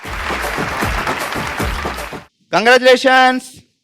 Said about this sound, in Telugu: కొట్టడమ్మా చప్పట్లో